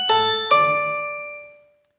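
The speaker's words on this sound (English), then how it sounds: "We've met our PTV chime quota, so that'll be it." A PTV chime rings on a live stream, two bright bell-like tones struck about half a second apart, then ringing out and slowly fading to silence.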